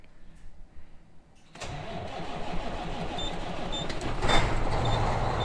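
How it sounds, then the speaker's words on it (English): A farm grain truck's engine cranks and catches in cold weather after a quiet moment, then settles into a loud, steady idle that swells briefly before holding near and continuous. "Let me start the truck"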